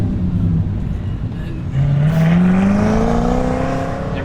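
Mazda Miata car driving past, the engine note climbing in pitch as it accelerates close by, a rising revving tone that swells and lingers before easing off.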